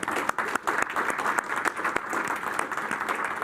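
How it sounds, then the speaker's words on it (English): A lecture audience gives the organizers a quick round of applause: dense, fairly soft clapping from many hands, steady throughout and heard from a distance. "how about a quick round of applause for our wonderful bottom of the iceberg"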